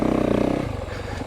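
A 2025 Yamaha YZ450FX off-road motorcycle engine on its mellower blue map gives a loud, close, steady pulsing drone that eases to a lower, rougher idle-like throb partway through.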